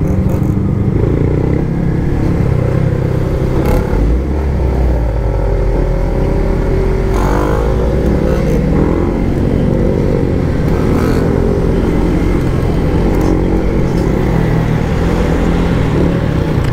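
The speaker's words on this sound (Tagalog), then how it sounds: "papakitaan ko kayo kung paano sumingit gamit tong motor na to" A Yamaha MT-15 motorcycle engine drones loud and close as the rider filters through traffic, its steady hum shifting slightly with throttle, and other traffic noise runs underneath throughout.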